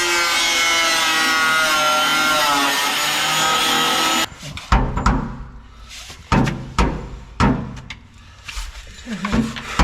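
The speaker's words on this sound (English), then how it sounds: "you have to drill more of the floor out." A drill bores through the floor of a Chevrolet Silverado pickup with a steady, loud whining grind for about four seconds, then stops; several close knocks and thuds of metal and tools follow.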